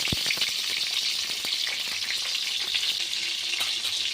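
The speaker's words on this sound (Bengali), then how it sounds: "ঢাকা দিয়ে ভালো করে পটলটাকে ভেজে তুলে নেব।" Pointed gourd (potol) frying in a kadai of white oil with salt, ginger and whole green chillies sizzles steadily and close, with a few light clicks of a utensil against the pan.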